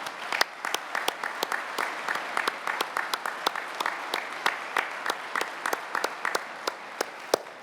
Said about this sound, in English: let us give you a big round of applause for all the hard work you do